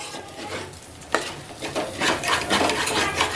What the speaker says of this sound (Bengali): চালটা দিয়ে এখানে আমি কষিয়ে নেব চালটাকে ভালো করে। 2 থেকে 3 মিনিট নেড়ে নেব আমি।